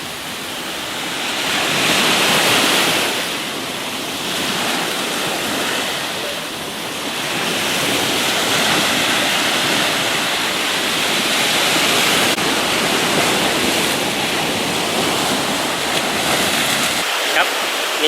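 Sea surf rolling onto Nang Rong Beach in Sattahip, Chonburi, Thailand: a loud, continuous wash of breaking waves with gentle swells in intensity and no voices.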